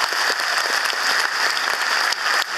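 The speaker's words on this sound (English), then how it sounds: "I think he deserves a big round of applause." A big round of applause for an alto saxophonist playing with a Garda band at an Irish citizenship ceremony in Dublin, a dense continuous clatter of many hands, steady and fairly loud.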